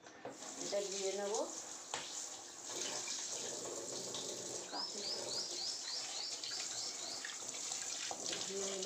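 Water running from a tap while a scaled and skinned hilsa fish is washed, a steady splashing flow close by with faint clinks and a voice briefly in the background.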